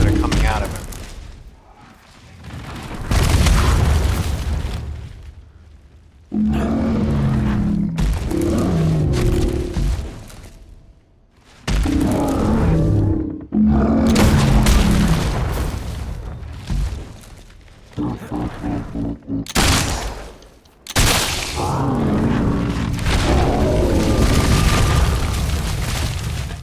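Troll battle in Fable 2 with heavy booming impacts, roaring and bursts of combat noise arriving in loud surges, with sudden silent gaps and several fast repeated hits, close and forceful.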